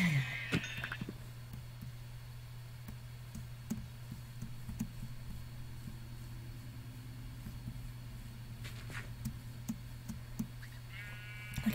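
Sheep bleat in a video game: a couple of short, nasal calls near the start and the end, over a steady low background hum.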